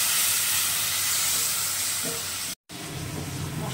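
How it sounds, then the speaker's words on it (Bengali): Ground spices fry with a splash of water in oil for a Bengali tengra fish curry, producing a loud, dense hiss and sizzle that breaks off briefly and then resumes a little softer. "মশলাটা দিয়ে একটু জল দিয়ে কষাবো, না হয় মশলাটা পুড়ে যাবে।"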